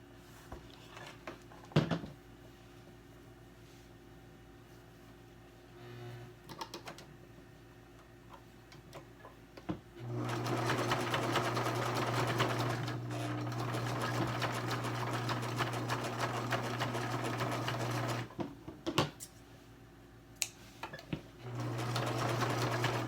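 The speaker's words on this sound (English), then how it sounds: "we're going to stitch right at the bottom of the zigzag area" A sewing machine stitches fabric for a 3D face mask in two long, steady whirring runs, close by, with scattered ticks and handling clicks in the quieter stretches between them.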